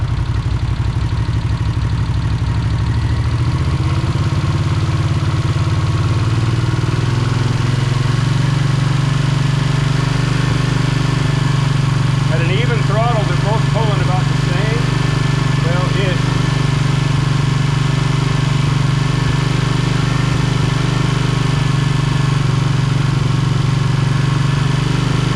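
A Honda GL500 V-twin motorcycle engine with vacuum leaks runs at a steady even throttle, a loud, close, constant droning rumble with a brief uneven flutter partway through.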